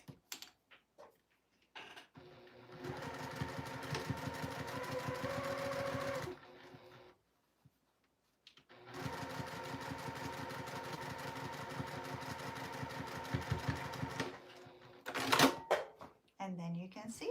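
A sewing machine stitches a fabric seam in two long, rapid bursts of steady mechanical clatter separated by a short pause, fairly close and loud, with small handling noises at the end.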